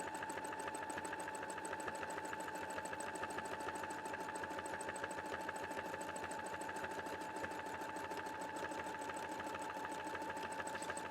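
A sewing machine fitted with a darning foot stitches side to side. Its motor runs at a fast, steady buzz with a constant rhythm and no voices.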